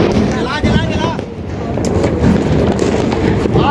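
A Diwali firecracker shot goes off nearby, with loud rumbling bursts and crackling over a dense, noisy background, and people talking throughout.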